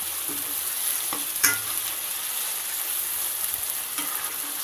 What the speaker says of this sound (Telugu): ఇప్పుడు మనం టమాటోస్ యాడ్ చేసుకున్నాము ఇది కొంచెం ఆయిల్ పైకి ఫ్రై అయ్యే వరకు ఆయిల్ ఇలా పైకి వచ్చే వరకు బాగా మగ్గించుకున్నాం